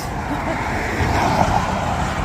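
Fast road traffic rushes past a footpath beside a boardwalk trail in South Korea, a steady close roadway roar swelling as a vehicle passes.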